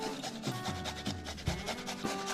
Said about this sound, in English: I'll grate some ginger in here.